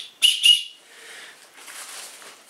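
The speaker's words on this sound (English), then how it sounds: "Here's your emergency whistle." Two short, sharp blasts from the emergency whistle on a Gossamer Gear Mariposa ultralight backpack, blown close and fairly lightly, followed by a faint softer breathy tone.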